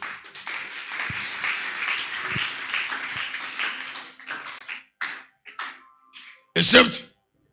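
Congregation at a church sermon applauding together, a dense wash of many hands clapping for about four seconds, then thinning into a few scattered claps and a sharp loud burst near the end.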